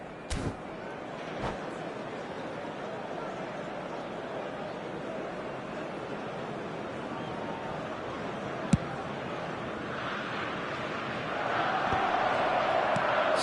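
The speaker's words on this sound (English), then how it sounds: "that's the response the crowd were looking for, Peter, and it's applause all round us here" A football stadium crowd applauds in a broad, continuous wash of clapping and murmur heard at a distance, swelling slightly toward the end.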